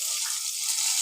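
Tomatoes sizzle steadily in hot oil in a pan for a Telugu-style tomato chutney, a continuous close frying hiss with no pauses and no voices.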